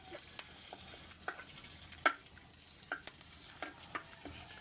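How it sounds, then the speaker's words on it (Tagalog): Garlic sautéing in a pan for ginataang sitaw at papaya, a steady low sizzle under sharp intermittent clicks and scrapes of stirring, close up with no voices. "Titimpla po tayo na magigisa bawang."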